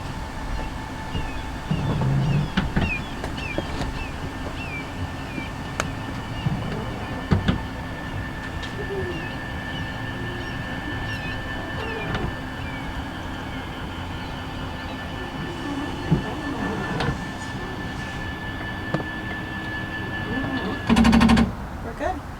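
A Schwintek slide-out on an RV extends with a steady mechanical hum and rumble running continuously, punctuated by a few clicks and a heavier clunk near the end, with people talking over it.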